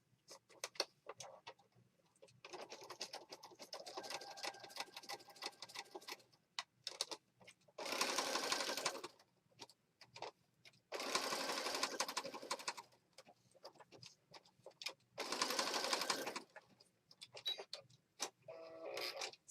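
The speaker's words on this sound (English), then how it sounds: "I'm just going to stitch right around the postcard, which is going to put all these pieces together" Sewing machine stitching around a postcard for a junk journal, with bursts of rapid mechanical whirring and clatter that start and stop several times, separated by quiet pauses and light handling clicks.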